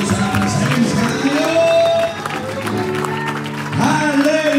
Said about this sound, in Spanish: lo recibimos con este fuerte aplauso para usted